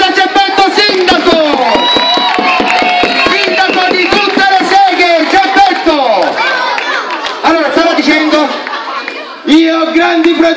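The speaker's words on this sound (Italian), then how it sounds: "Un applauso a Geppetto sindaco" Crowd at a carnival street show cheering and clapping for a mock mayoral candidate, a loud mix of shouts, whoops and scattered claps with several voices calling out over the noise.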